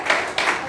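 Audience clapping at a youth leadership club meeting, a short burst of steady applause from several people in a room.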